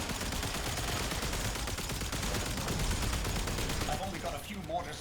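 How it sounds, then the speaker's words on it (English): Mortars fired in a video game battle, heard as a dense, continuous barrage of loud booming shots layered with rapid gunfire that barely lets up before easing slightly at the end. "I've only got a few mortars left. Firing them all."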